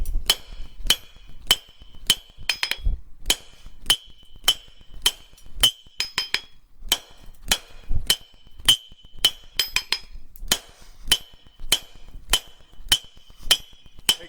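Forging hammer ringing on hot steel over an anvil horn while shaping a patio coffee cup or beer coozie holder: a steady run of sharp metallic clinks at a regular rhythm, close and clear, with no talking.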